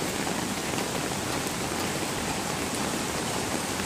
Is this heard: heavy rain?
yes